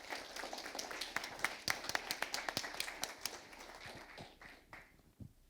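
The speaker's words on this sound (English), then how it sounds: "a huge applause to the team who has put this event together" Applause from an audience at an impact report launch event, a dense patter of hand claps that is moderately loud, then fades out over the last second with a few scattered claps.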